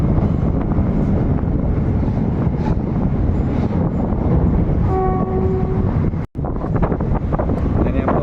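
Loud, continuous rumble of a train rolling over the Pamban lift bridge on the way to Rameshwaram, with a brief horn midway and a sudden short cut near the end.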